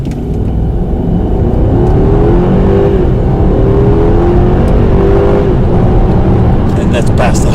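A supercar accelerates hard from nearly stopped without launch control, its engine roaring loudly from inside the cabin with rising pitch through the gears, dominating the whole stretch.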